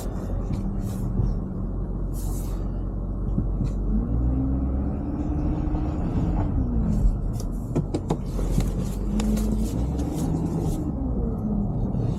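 A work vehicle driving on a road, a steady engine rumble with road noise and low tonal whine rising and falling, constant and close throughout.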